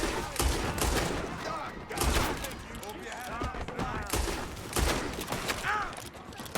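Gunfire shootout in Red Dead Redemption 2, with sharp volleys of shots bursting out in irregular clusters, loud and close, while a voice talks faintly underneath.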